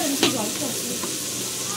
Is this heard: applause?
no